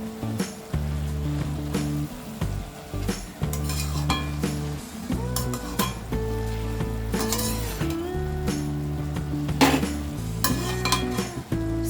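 A spoon stirs and scrapes through fenugreek leaf and tomato curry with red chili powder and coriander in a pan, giving repeated clanks and a faint sizzle over steady background music.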